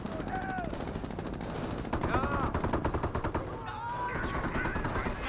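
Rapid machine-gun bursts and sharp rifle cracks, including sniper shots, rattle through a Company of Heroes battle with a Greyhound armored car, heard under continuous commentary and game ambience.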